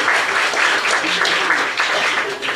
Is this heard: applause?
yes